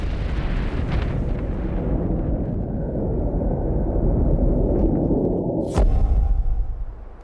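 An asteroid impact explosion sound effect, a loud, deep, continuous roaring rumble that grows and swells, then a sharp crack-like burst near the end followed by a heavy low-frequency boom.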